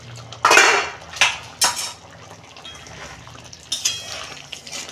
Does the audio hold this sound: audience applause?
no